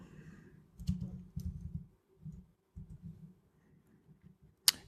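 Typing on a Mac computer keyboard in a terminal, quiet clusters of rapid key clicks in short bursts separated by pauses, ending with one sharper click.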